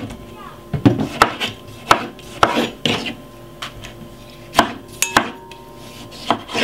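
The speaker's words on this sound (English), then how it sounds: "That's the way I'm gonna cut my tomato them." A knife slices two medium-sized tomatoes on a cutting board, giving a series of sharp, separate chops with short pauses between them, close and fairly loud in a quiet kitchen.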